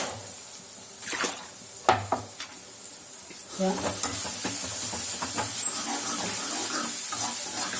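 Ground masala sautéing and sizzling in a pan while cooking fish kuzhambu, with stirring scrapes over a steady frying hiss that grows louder and continuous in the second half.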